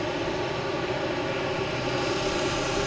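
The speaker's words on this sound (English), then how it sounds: "JetBlue taking off, heading to London Heathrow." A JetBlue jet taking off from Boston Logan for London Heathrow produces a loud, continuous engine roar with a deep rumbling low end, unbroken and close, with no voices.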